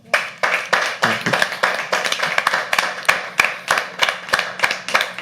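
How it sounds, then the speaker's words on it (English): An audience at a poetry open mic at The Habitat claps together in a steady, rhythmic beat, the claps loud and close and repeating evenly for several seconds with no talking. "with a huge round of applause, keep it going"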